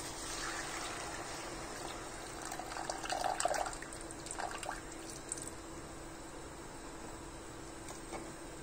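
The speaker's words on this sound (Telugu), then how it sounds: "ఇప్పుడు చింతపండు పులుసు పోసేసుకుందాం." Tamarind juice poured into a pan of simmering fish pulusu curry made with boneless Apollo fish, giving a soft, steady liquid splashing and trickling that swells briefly in the middle, faint and without talking.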